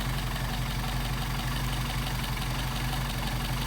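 A Mercedes 190SL engine with Solex carburetors idles in cold weather, a steady, close, even rumble with a slight knock and no talking.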